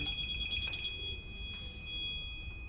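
A telephone rings during a charger review at a desk, a clear electronic tone with bright ringing bursts in the first second that continue as a steady high tone, moderately loud over a quiet room hum.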